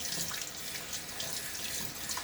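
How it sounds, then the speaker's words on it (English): Water runs steadily from a tap while the sides of a shaving soap container, held upside down with the soap puck inside, are rinsed; a close, continuous splashing hiss with no talk. "Just kind of rinsing off the sides of the container, holding it upside down, keeping that puck in there"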